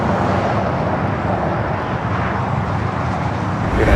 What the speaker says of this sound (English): The Japan Airlines flight coming in from Tokyo Haneda.